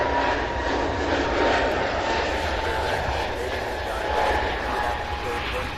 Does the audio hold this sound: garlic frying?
no